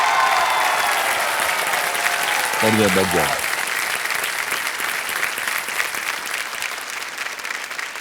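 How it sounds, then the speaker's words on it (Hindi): Loud, sustained clapping from the studio audience of the Kaun Banega Crorepati quiz show fills the whole stretch, with a short spoken phrase rising above it partway through. "इतनी ताली बज रही है जनता के तरफ से"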